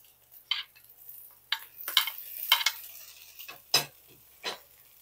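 A spoon stirring tofu and vegetable soup with mushrooms and onion in a pot, a few separate scraping, clinking strokes spaced across a quiet stretch, with no talk.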